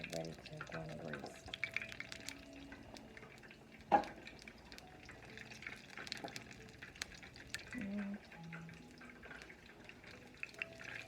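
Homemade egg rolls sizzle and bubble in hot frying grease, a steady soft crackle with scattered pops and one sharper spatter, close by and fairly quiet.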